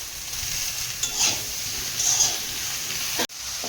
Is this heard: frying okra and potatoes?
yes